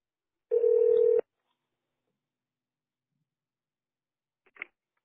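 A single telephone ring burst sounds alone in a quiet line for about half a second, followed by a faint brief click a few seconds later, with no talking.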